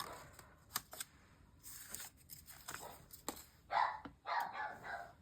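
A dog indoors barks at a man in the morning: faint, distant barks in a few short bursts over a quiet room with soft rustling.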